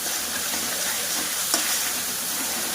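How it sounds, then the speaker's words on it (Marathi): Red spice masala frying in oil for a drumstick curry, producing a dense, loud and even hiss of sizzling that runs unbroken, with one brief sharper spit partway through. "मसाला छान तळून घेत आहे तेल पण सुटत आहे मसाल्याला"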